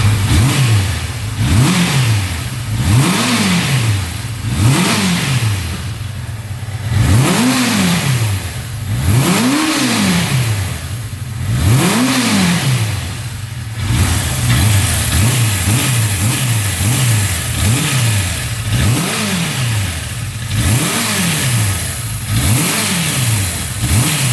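A used motorcycle engine revs repeatedly, each throttle blip rising and falling in pitch in a steady series of loud, close rises over a continuous running idle, with no talk.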